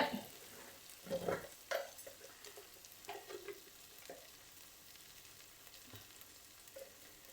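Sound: frying and stirring chicken curry masala in a pan

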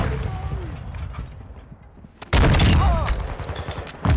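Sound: shotgun fire in a video game

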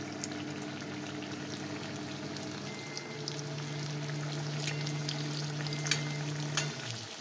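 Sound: semolina-stuffed kulcha frying in hot oil in a wok

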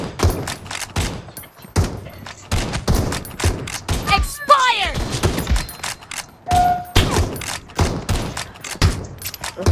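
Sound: Winchester 94 gunfire in video game BGMI

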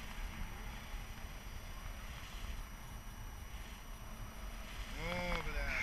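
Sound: wind

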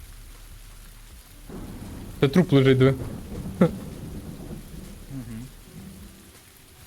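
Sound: rain and thunder in video game PUBG

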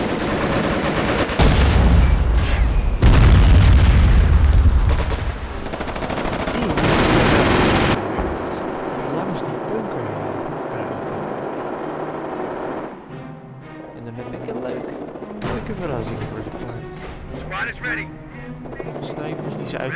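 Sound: sniper gunfire in video game Company of Heroes

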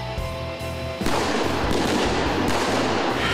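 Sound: gunfire during police academy shooting training

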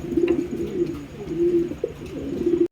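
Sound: pigeons cooing

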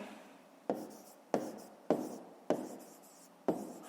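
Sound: writing down a math answer

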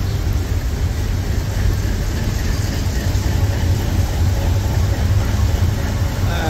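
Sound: freight train passing

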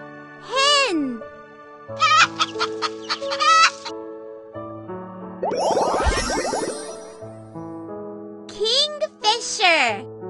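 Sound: hen clucking

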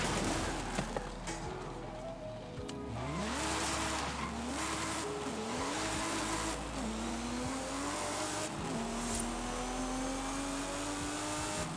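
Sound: BMW E36 M3 engine at speed in video game Forza Horizon 5

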